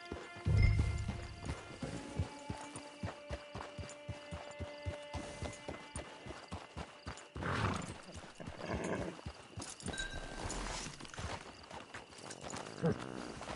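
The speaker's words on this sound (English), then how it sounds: "Hitch your horse." Horse hooves in Red Dead Redemption 2, an open-world western game: a steady, regular clip-clop of walking hooves close by, with a low hum behind it.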